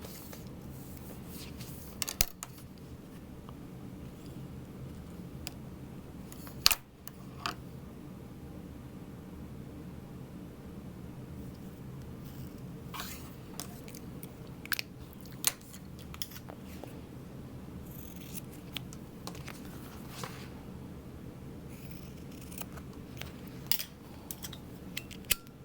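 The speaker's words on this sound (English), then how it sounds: "create a little angle, and that's what we're gonna cut" Scissors cut fabric for a sewn sling in a quiet room, giving a few faint snips and clicks spread irregularly over a soft background hiss, with no talking.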